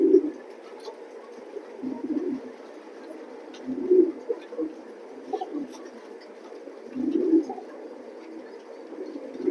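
Racing pigeons in a pigeon loft coo in soft, low, rounded bursts at a few separate moments, faint against a quiet background.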